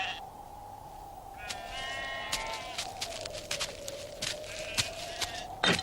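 Sheep bleat repeatedly at close range, with a run of wavering cries over a steady low drone, and no talking.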